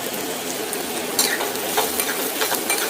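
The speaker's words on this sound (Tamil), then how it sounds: "நல்லா வதக்கணும் பொன்னிறமாக ஒரு வரைக்கும் வதக்கிக்கோங்க" Chopped onion frying in hot oil with lentils (urad dal) and mustard seeds, a steady close sizzle with occasional scraping strokes of a spoon against the pan.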